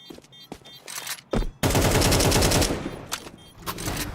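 Counter-Strike gunfire during an ESEA League match: a few scattered single shots and footsteps, then a loud, sustained automatic burst that tapers into more isolated shots.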